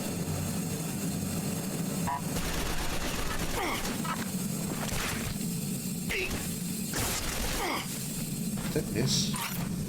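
Loud bursts of gunfire aimed at the player in the video game Rage, repeated shots and whooshes over constant game noise, with a person talking through part of it.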